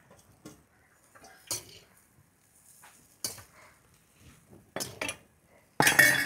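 A spoon clatters and scrapes against a pan while idiyappam rice is stirred with cardamom, cinnamon and ghee, giving sharp metallic clinks in irregular bursts separated by quiet gaps, the last burst the loudest.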